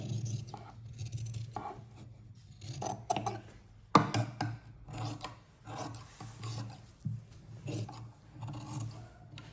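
Scissors cut cloth for a round suit neckline up close, with irregular rasping snips and rustling fabric, one sharper snip partway through.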